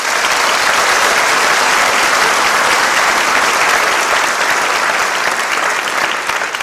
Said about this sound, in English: just give these individuals a round of applause.